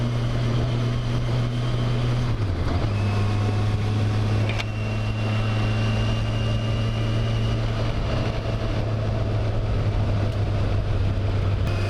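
Motorcycle engine whining steadily while riding, a loud continuous drone with a sustained tone that dips briefly as the engine shifts, then holds steady with passing wind noise; no talking.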